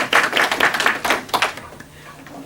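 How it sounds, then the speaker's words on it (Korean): A short round of applause from a church congregation during a Sunday worship service, clapping that fades out after a couple of seconds. "다시 한번 박수로 환영하겠습니다."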